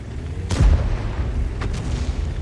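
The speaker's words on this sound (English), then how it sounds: "And you can see these shells coming in" Artillery shells land in a tank video game with an M46 Patton, heard as a deep booming impact followed by a second, fainter blast over a low steady rumble of background noise.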